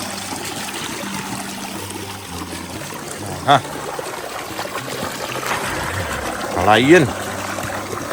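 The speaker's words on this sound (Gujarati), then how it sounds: "જુઓ ફૂલ પાણી આવે" Irrigation water flows through a channel into a farm field, a steady soft trickling and gurgling that runs the whole time beneath people talking nearby.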